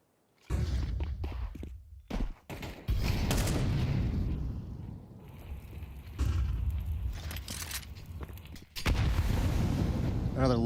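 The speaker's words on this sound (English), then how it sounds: "Another lovely nade." A grenade detonates in a Counter-Strike match, a dense broadband blast among repeated loud bursts and gunfire-like hits over several seconds, with a commentator talking throughout.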